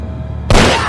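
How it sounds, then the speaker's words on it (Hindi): A single loud gunshot fired from a handgun cracks out abruptly midway, following a low rumbling background and leaving a broad noisy decay. "गन निकालो और अपने हाथ पे गोली मारो।"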